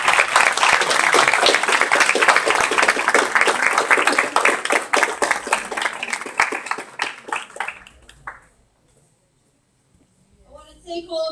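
Dense audience applause at a dinner event, strong at first, then thinning into scattered claps and dying away to near silence before a voice begins speaking.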